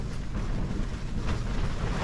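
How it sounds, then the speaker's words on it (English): Steady, blustery wind on an open moor roars across the microphone, a continuous low rumble with gusty surges and no other sounds. "The wind, listen to the wind blowing that cob."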